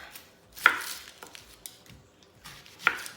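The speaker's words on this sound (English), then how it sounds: "Now we're gonna do an onion. All right, so I'm just gonna take the skin off." An onion's skin is peeled off on a kitchen work surface: a few sharp knife taps and crackly papery rustles, with two distinct louder clicks separated by quieter scraping and pauses.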